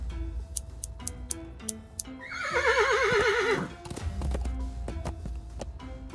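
Horse in the video game Willy Morgan gives a loud, wavering whinny lasting about a second, set among clip-clop hoof ticks and game sounds before and after.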